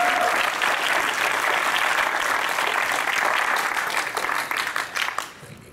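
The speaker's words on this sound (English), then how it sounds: "So let's give Mike a round of applause as well." Convention audience applause for Mike: a dense, steady round of clapping, close and full, fading out over the last second.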